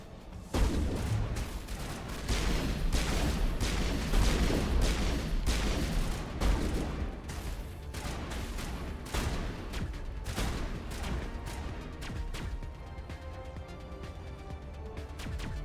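Sustained gunfire in a Mass Effect firefight: a dense barrage of overlapping shots and booming impacts for several seconds, thinning out toward the end into a quieter background rumble.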